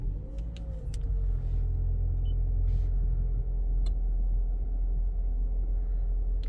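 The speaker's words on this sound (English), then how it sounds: "This button here is to start the vehicle, so you put it on the brake, that starts the vehicle." A 2020 Toyota C-HR 1.8 hybrid with a CVT gearbox starts from its push button and settles into a steady, fairly loud low engine rumble that holds evenly throughout, with a few faint clicks on top.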